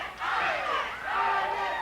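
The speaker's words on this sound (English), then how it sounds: "The crowd starting to chant." A wrestling crowd at a Southwest Championship Wrestling match chanting in unison, two loud rhythmic surges of massed voices filling a hall.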